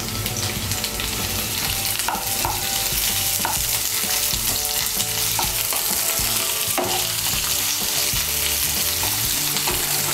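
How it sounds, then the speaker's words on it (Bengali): Chopped onion dropped onto potatoes and okra frying in hot oil in a pan, a loud continuous sizzle close by with recurring scrapes and knocks of a stirring spatula. "এখন এর মধ্যে আমি দিয়ে দেব কেটে রাখা পেঁয়াজ কুচি"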